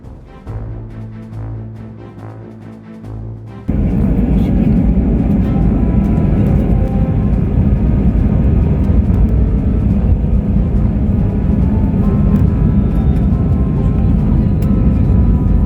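Steady, loud jet cabin roar inside a Wizz Air airliner in flight, a broad continuous rumble that jumps up sharply after a few quieter seconds and then holds constant, with no talking.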